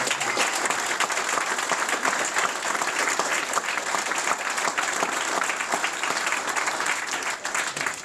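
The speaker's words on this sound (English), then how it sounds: "if you give volunteers in this country one big round of applause for their work" A crowd gives a hearty round of applause for volunteers at a community sports club grant event, continuous full clapping held at an even level throughout.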